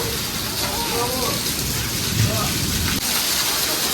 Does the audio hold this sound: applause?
no